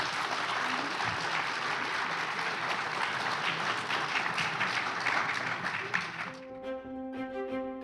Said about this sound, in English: Quick round of applause for our panelists.